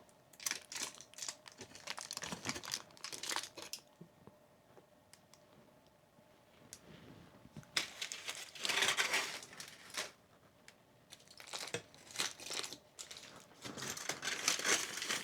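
Aluminium foil being crinkled and handled up close, bursts of dry crackling rustle separated by quieter pauses, fairly soft overall, with no talking.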